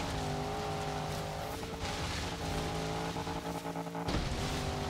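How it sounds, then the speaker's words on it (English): A Jeep SRT8 drifts in Forza Horizon 3, its engine roaring steadily with layered harmonic tones while tire squeal rises in bursts, loud and continuous with no talk. "I'm drift mastering this Jeep right"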